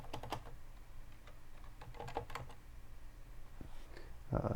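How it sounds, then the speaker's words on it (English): Someone types on a computer keyboard in quiet bursts of close, crisp key clicks, with pauses between the clusters and a louder clack at the end. "Well, actually you can just type"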